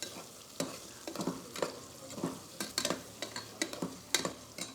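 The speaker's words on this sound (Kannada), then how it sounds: "ಈಗ ಮಶ್ರೂಮ್ ಫ್ರೈ ಮಾಡ್ಕೋಬೇಕು" About 200 grams of mushrooms frying in a pan for mushroom biryani, a soft sizzle broken by repeated sharp stirring clatters and scrapes, close up and without talk.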